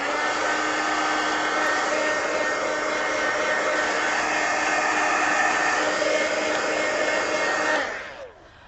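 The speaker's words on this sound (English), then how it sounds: "I'm going to hit it with a heat gun" A heat gun blasts steadily for about eight seconds while drying watercolor paint in a coloring book, a loud continuous hot-air roar with a whining tone, then it switches off and spins down at the end.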